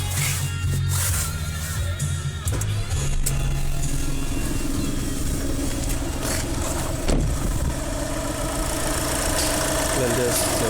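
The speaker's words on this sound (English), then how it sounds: "if I switch it on, then you can listen the sound of the car" A VW Polo 1.2 TDI with a 1200cc, 75 PS diesel engine is switched on and settles into a steady, rumbling idle close by, with a brief clatter at startup and no talk over it.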